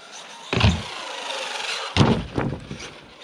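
A truck, likely a radio-controlled model, drives over a jump ramp, giving two thumping impacts with a whooshing rush of wind and motor noise between them, close to the microphone.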